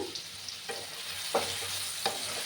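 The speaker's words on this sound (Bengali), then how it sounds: "2 মিনিটের মতো আমি হাই আছে আলুগুলোকে ভেজে নেব।" Potatoes fry in hot oil with turmeric and salt, giving a soft continuous sizzle broken by a few scraping stirs of a spoon.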